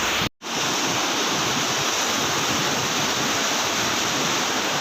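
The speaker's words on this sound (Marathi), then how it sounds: "बघा पाण्याला गती किती आहे, जबरदस्त" The flooded Nira river rushes past in a loud, unbroken roar of churning water that fills the whole clip, cut only by a brief dropout near the start.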